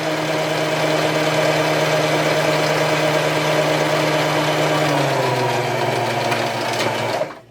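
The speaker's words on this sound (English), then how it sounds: "we are going to sew along one side of it 1/4 inch away" A sewing machine stitches a seam on a Christmas tree quilt block potholder, running at a steady fast hum with a rhythmic mechanical buzz up close, slowing briefly near the end before stopping abruptly.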